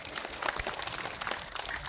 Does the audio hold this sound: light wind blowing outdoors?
no